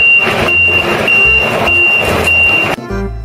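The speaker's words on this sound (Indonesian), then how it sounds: "Yang ini ada mobil truk molen." Toy cement mixer truck sounding a steady, repeating electronic reversing beep over a loud motor rumble for nearly three seconds, then it cuts off abruptly, leaving a brief quieter tail.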